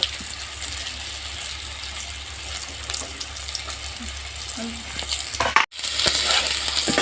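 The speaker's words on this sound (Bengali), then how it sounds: "উল্টে পাল্টে আমি লাল লাল করে ভেজে নেব" Tomato and egg snacks sizzle steadily in hot oil in a wok, a dense, even frying hiss that continues throughout, with a few light stirring clicks and a brief break near the end. No one speaks.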